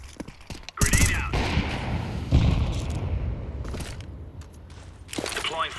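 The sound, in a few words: grenade explosion in a video game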